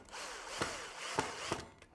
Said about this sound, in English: Now I'm going to just put a couple of screws in for demonstration purposes